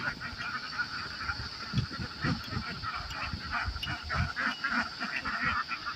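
A flock of ducks quacking and honking together in a continuous, busy chorus over steady outdoor background noise.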